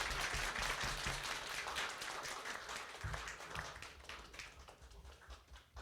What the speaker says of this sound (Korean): 지금 박수를 나누고 계시는데요